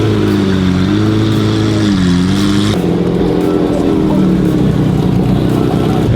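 A Pagani Zonda Squadra Corsa with twin turbos idles and revs at a car show, a loud, steady engine drone whose pitch rises and falls, shifting in tone partway through amid surrounding crowd noise.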